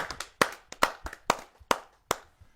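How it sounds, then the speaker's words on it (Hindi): A few people at a Hindi poetry gathering clap to invite the next poet, the claps sparse and distinct, each sharp and close. "आइए आपकी जोरदार तालियों से हम उसको आमंत्रित करते हैं।"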